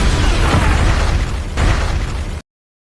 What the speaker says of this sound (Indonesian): tempat kebakaran itu meledak dengan dahsyat